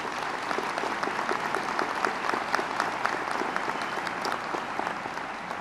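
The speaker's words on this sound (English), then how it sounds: "give yourselves a well-deserved round of applause" A graduation crowd at Ringling College applauding its graduates, sustained and loud, dense clapping from a large audience that holds steady throughout without pause.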